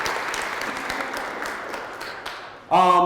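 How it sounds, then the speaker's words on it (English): Another round of audience applause at an inspirational talk, a steady wash of clapping that fades before a voice cuts in near the end. "give them another round of applause"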